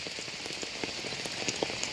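Steady rain in Kozhikode, Kerala patters densely on a surface, with scattered individual drops standing out against the constant wash of falling water.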